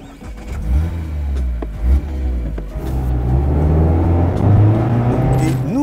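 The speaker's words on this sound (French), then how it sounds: "Et nous voilà en train de rouler sur le circuit de l'Est parisien." A 2024 Mazda MX-5 ND driving on a race circuit near Paris, its engine droning and rising in pitch as it accelerates through the gears, loud and close with no talk.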